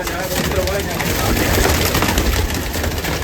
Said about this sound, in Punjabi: ਇਹ ਕਾਕੇ ਵਾਲੇ ਕਬੂਤਰ ਆ ਜਮਾ ਪਿਓਰ ਕਰਕੇ ਨੇ